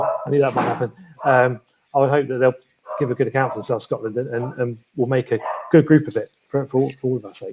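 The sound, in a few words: dog barking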